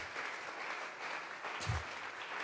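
A church congregation claps in an offering of applause during a Tuesday Bible study service, a steady, dense patter of many hands at moderate distance, continuous throughout.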